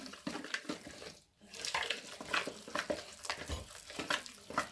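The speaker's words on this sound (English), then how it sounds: "And you just mix it together." Curried fritter batter being mixed by hand: wet, close stirring and scraping in irregular strokes, with a brief pause partway through and no talking.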